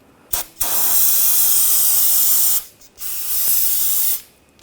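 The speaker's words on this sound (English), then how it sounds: "You can clean up any mess with a little brake parts cleaner." Brake parts cleaner sprayed from an aerosol can during a BMW X5 parking brake job, a short puff followed by two long, loud, close hissing bursts separated by a brief pause.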